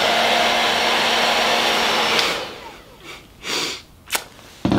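Hygo hair-drying cap blowing a loud, steady stream of air for about two seconds, then cutting off, leaving only faint rustling and a few soft sniffs or movements.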